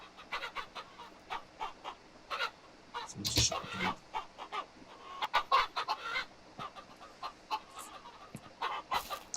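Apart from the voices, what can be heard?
chickens clucking in the video game King of Retail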